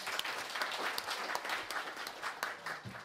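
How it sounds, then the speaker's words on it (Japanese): Polite applause from an audience at a forum on zero nuclear power and renewable energy, moderately quiet, with individual claps audible in a steady patter lasting about three seconds. "どうも拍手お願いします。"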